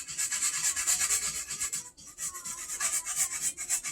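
Fresh turmeric root rubbed against a grater in a home kitchen while making Haitian-style chicken in sauce, giving a steady rhythmic rasping of repeated close strokes with a brief pause near the middle.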